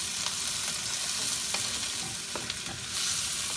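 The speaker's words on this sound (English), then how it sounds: "Give it a stir." Crab simmers in coconut milk in a pan, stirred with a spoon: a soft, steady bubbling sizzle with faint scraping strokes, no talk.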